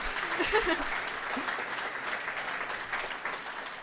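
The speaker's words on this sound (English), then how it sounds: "you can give that a clap" An audience at a tech conference talk claps steadily for a few seconds, a dense wash of applause with a few faint voices underneath.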